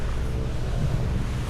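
Strong wind blowing across an open vegetable field, a steady roaring buffet against the microphone with no other sounds.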